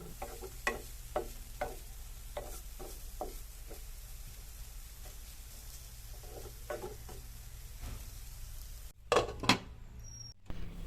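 Rava and carrot for payasam stirred in a pan over a low flame: a spoon gives soft, rhythmic scraping strokes against the pan, faint and close, with a louder clatter of the utensil near the end.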